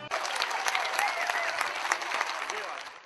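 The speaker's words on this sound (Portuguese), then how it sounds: "O público aplaudiu de pé." Standing audience applauding the Orquestra Sinfônica de Minas Gerais after a classical concert, a full, dense burst of clapping that starts abruptly and stays loud, with a voice speaking over it.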